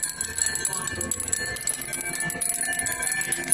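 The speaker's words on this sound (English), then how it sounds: "That's the bell." Bells from Germany are rung, giving a dense, bright, continuous jingling and ringing with rapid uneven pulses throughout, loud and close with no talk.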